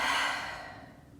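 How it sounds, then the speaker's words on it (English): A single slow breath exhaled deeply during yoga practice, a soft airy sigh that fades gradually over about a second, close and quiet. "And we breathe."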